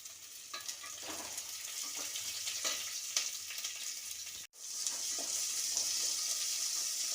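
Carrots and green chillies fry in a pan with a steady, close hissing sizzle and occasional stirring scrapes. The sound cuts out for a moment midway, then resumes just as strongly.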